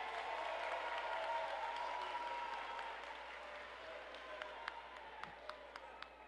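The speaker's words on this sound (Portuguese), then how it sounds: "Uma salva de palmas aqui para o nosso prefeito." A crowd at a political campaign launch applauds the mayor, a dense wash of clapping that gradually thins and fades, leaving a few scattered distinct claps at the end.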